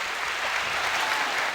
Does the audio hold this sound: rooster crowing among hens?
no